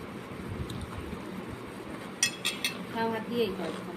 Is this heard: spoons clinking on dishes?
yes